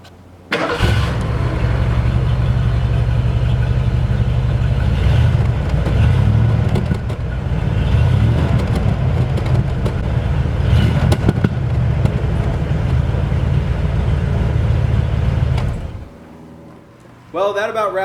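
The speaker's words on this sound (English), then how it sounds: "I'll give you a little sound bite of the exhaust here just in a second." A 1977 Lincoln Continental with glass pack mufflers starts and runs, its exhaust giving a deep, steady rumble for about fifteen seconds, loud and close, before cutting off.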